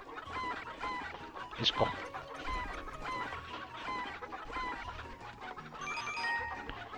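Chickens cluck repeatedly in the Breath of Fire IV chicken-herding minigame on PlayStation, quiet, busy game-sound clucks with one sharp squawk, under a man's brief words.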